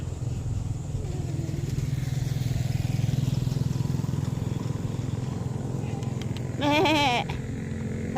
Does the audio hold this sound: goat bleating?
yes